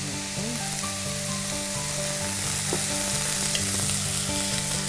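Diced vegetables fry in a little oil in a pan, a steady close sizzle with faint stirring clicks and no talking.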